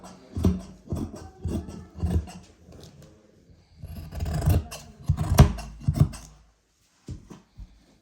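Scissors snip through saree blouse fabric in a series of rhythmic crunching cuts, close and moderately loud, pausing briefly between strokes with no voices.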